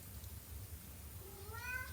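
A cat meows faintly in the background, one rising, drawn-out cry near the end over a steady low hum.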